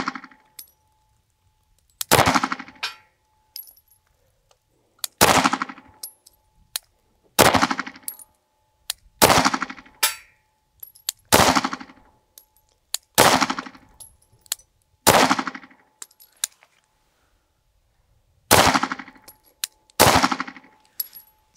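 Sig Sauer P365 pistol fired slow and deliberately at targets outdoors: about ten sharp, loud single shots spaced a second or two apart, each with a brief ringing tail, with a longer pause before the last few.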